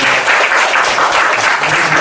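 Steady, close applause from a church congregation fills the whole stretch, dense and even with no voices over it, during an appointment ceremony for small-group leaders at a Korean Sunday service.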